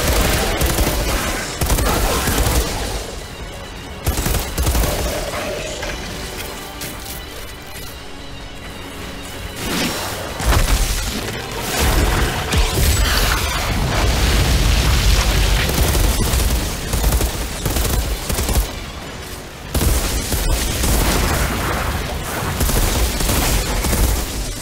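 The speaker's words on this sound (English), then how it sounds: "Oh, this gun's powerful." Loud, dense gunfire from a powerful gun in the shooter game Outriders, with sustained bursts of shots and booming impacts running almost continuously throughout, layered over game effects.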